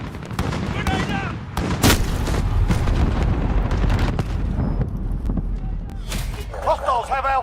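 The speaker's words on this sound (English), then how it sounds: "Grenade out!" In Modern Warfare 2019 multiplayer, a grenade explodes with a heavy boom, followed by another blast amid rattling gunfire, while voices talk over the loud, chaotic battle.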